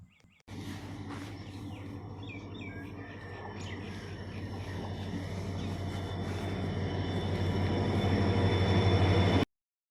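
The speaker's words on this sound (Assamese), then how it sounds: "ট্ৰেইনখন আহিল, এতিয়া ট্ৰেইনত উঠি লওঁ" A train arriving at a small local railway station builds into a continuous rumble that grows steadily louder, with birds chirping faintly above it and no voices.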